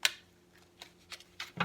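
Sticky tarot cards are shuffled by hand, producing a few separate soft riffling swishes and flicks spaced unevenly, quiet and close, with the last one slightly fuller.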